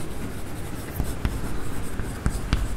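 Pen or marker writing construction steps for a class X geometry proof of the basic proportionality theorem, a steady scratchy stroke with sharper taps as strokes start and end, close and fairly clear.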